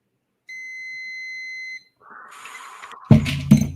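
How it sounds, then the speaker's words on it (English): A multimeter on continuity mode gives one sustained high electronic beep lasting over a second, clear and close, followed by rustling handling noise and a couple of sharp knocks. "we are on continuity, so if I touch this here, you can hear the beeping"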